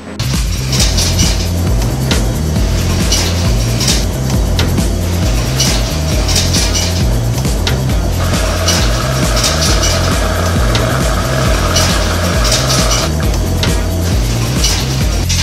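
A Speed Queen tumble dryer runs inside a laundromat, giving a steady loud mechanical drone with a low rumbling hum throughout, a faint higher whine joining partway through, and no talking.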